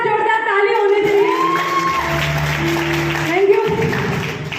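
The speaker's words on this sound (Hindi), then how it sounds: "मैं चाहती हूँ मेरे बच्चों के लिए एक बार जोरदार ताली होनी चाहिए।" An audience at a recognition ceremony gives loud applause with cheering and whoops, mixed with music and a voice speaking over it.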